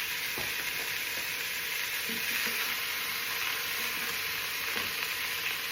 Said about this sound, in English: I'm also going to put in about a tablespoon of tomato paste.